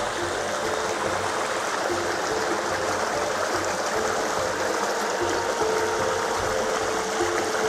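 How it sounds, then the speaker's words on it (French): A small stream flows steadily, a continuous broadband rush and babble of water with no breaks, fairly close and even in level throughout. "on arrive sur le petit ruisseau là"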